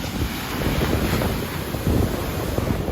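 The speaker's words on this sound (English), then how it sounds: "there is some wind, obviously, because we're right on the beach" Steady wind buffeting the microphone on Napeague Beach, Long Island, on a November night, with a constant rushing surf behind it, no voices, a continuous noisy wash.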